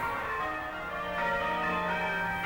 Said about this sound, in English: Once again, the bells ring out to the glory of God.